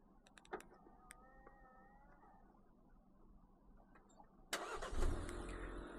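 Geely Starray GK 2025 SUV with a 1.5-litre engine, heard outdoors at night: a few faint clicks and electric whirs, then the engine starts by remote and settles into a low idle.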